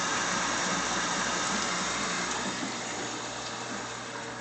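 Continuous rushing, splashing water flowing from an aquarium skimmer, with a low pump hum underneath, steady and close, with no voices.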